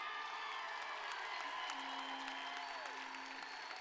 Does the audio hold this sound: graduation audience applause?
yes